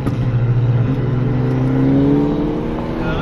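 A Hyundai Elantra N on a race track revs hard, its engine note climbing loud and close through a long pull, with a dip and rise as revs shift, heard with no talk.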